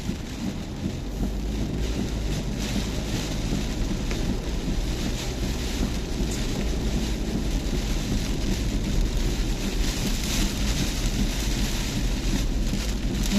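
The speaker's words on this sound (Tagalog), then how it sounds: "Lakas man ng hangin man." Strong Storm Kristine wind batters the Vermosa area, a steady, dense roar buffeting the microphone for the whole stretch, loud and unbroken with no voices.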